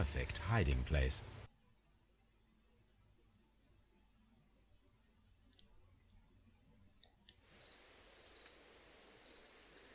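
Night-time crickets chirping in the Sherlock Holmes: Crimes and Punishments video game, a faint steady high-pitched chirping that rises into repeated clear trills late in the scene, following a brief burst of talk at the start.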